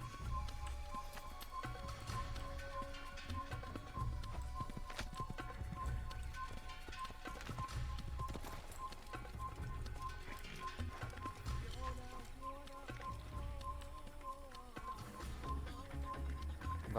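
Horse hooves gallop in the video game Assassin's Creed, a continuous run of rhythmic clip-clop beats at moderate volume with faint game ambience underneath.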